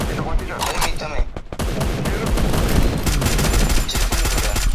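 Rapid bursts of gunfire from the video game Free Fire, played on a Poco X3 Pro during a tournament, crackle in dense volleys under squad voice chat throughout.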